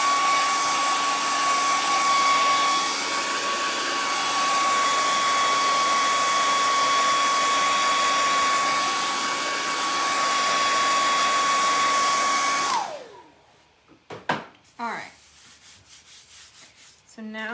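A heat gun blows hot air to dry paint on a buffalo plaid painting project: a loud, steady whooshing roar with a faint whine runs for about thirteen seconds, then cuts off, leaving a few light clatters.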